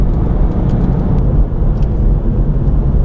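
A BMW M2 Competition under hard acceleration, a loud, steady, dense engine and exhaust roar heard from inside the cabin with no talk.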